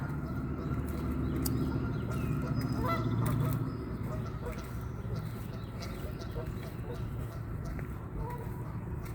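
Geese at a pond honk repeatedly in a dense, overlapping chorus, loud and close, with a person talking over the flock.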